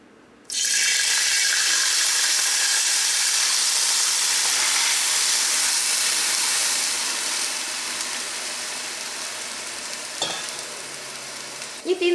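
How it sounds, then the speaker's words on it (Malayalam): Water poured into a pan of hot ghee for Ambalappuzha paal payasam bursts into a loud, sudden sizzle that holds as a dense, steady hiss and slowly eases, with a faint clink near the end. "അപ്പോൾ ഇതിലേക്ക് നമുക്ക് വെള്ളം ചേർക്കാം."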